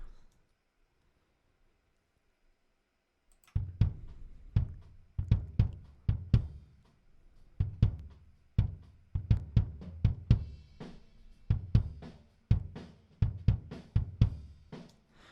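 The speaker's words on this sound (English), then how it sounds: "So I'm just gonna solo this bass drum track." A lone bass drum thumps in an irregular pattern after a few seconds of near silence, punchy and low, with no other instruments.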